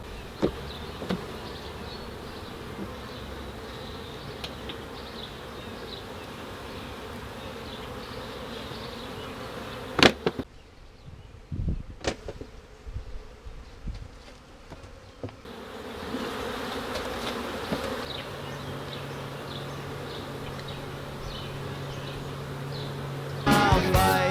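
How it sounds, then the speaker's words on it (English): Honeybees buzz steadily around backyard beekeeping hives, a continuous close insect drone that drops off briefly midway and then returns, with no talking. "We're even doing a little bit of beekeeping to help produce our own sugars"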